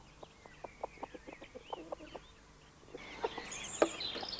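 Chickens in a permaculture coop on a farm cluck in a rapid series of short, close calls, then louder squawks and mixed calls follow over a rising background of outdoor noise.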